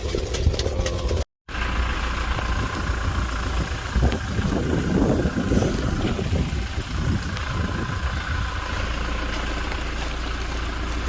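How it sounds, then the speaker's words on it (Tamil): Strong wind gusting across an open desert campsite in the Sossusvlei area of Africa ahead of a rainstorm, a loud, continuous roar against the microphone with rough buffeting, a brief dropout near the start, and no talk. "இங்கே பாருங்கள் எவ்வளோ மோசமாக காற்று அடிக்குதுன்னு சொல்லிட்டு"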